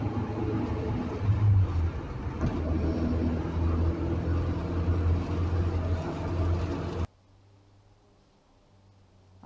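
A Mk3 Ford Cortina Estate drives along at the national speed limit, heard from inside the cabin as a steady engine and road rumble that cuts off abruptly to near silence near the end.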